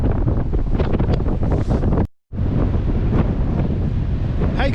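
Gale-force wind roaring across an outdoor microphone, a loud continuous buffeting that drops out briefly, then returns just as strong.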